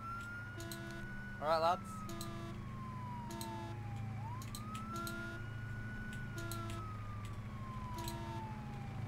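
A police car siren in the ARMA 3 video game wails in long rising and falling sweeps, with a brief warbling burst early on and a low engine drone beneath. Someone speaks briefly over it.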